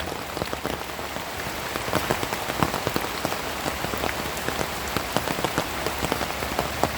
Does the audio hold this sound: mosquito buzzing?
no